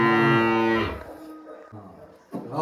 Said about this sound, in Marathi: ते बघ हंबारला परत.